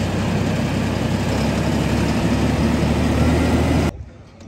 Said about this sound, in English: we use the forklift on the tractor to load the heavy things